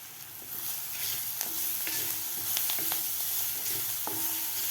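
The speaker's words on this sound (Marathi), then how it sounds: "व्यवस्थित ठेचा परतून घ्यायचा आपल्याला" Crushed green chili paste sizzles and crackles in hot oil with asafoetida and coriander while a utensil stirs and scrapes the pan with a few sharp clicks.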